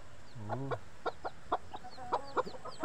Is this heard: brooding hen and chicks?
yes